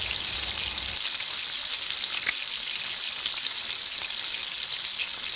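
Masala for Goan chicken cafreal reduces in a hot pan over high heat, making an even, close crackling sizzle with a low rumble that drops away after the first second, unbroken by any speech.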